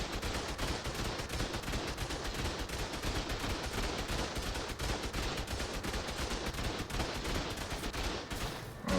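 Automated turrets fire nonstop during a base raid in the video game Ark Survival Evolved, a dense, loud barrage of rapid gunfire that carries on without pause for the whole stretch.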